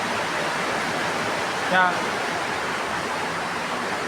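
Rainwater running and dripping down the side of a house during the rainy season, a steady broadband rushing wash throughout, with a brief voice sounding over it.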